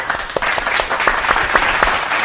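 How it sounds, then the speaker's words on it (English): A crowd gives a big round of applause with a dense, close run of claps that keeps an irregular beat and holds strong for the whole stretch. "Let's give Sendo a big round of applause for joining in"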